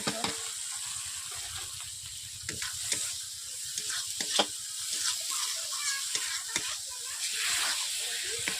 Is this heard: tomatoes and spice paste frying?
yes